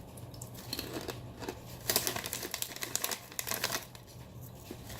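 A non-resealable snack bag of aged cheddar lentil loops crinkles softly and irregularly nearby, with quiet rustling bursts and crackles.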